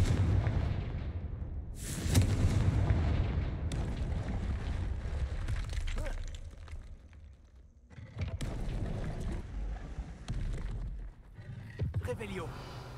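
Confringo fire-spell blasts in the Hogwarts Legacy video game boom repeatedly in loud, broad bursts across a busy battle mix, with a voice speaking over the action.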